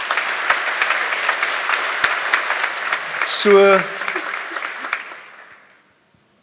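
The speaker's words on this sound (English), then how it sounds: "Give her a round of applause." Audience applause at a December 2022 medicine and health sciences graduation ceremony, a steady wash of many hands clapping that swells briefly with a voice over it before fading out to silence.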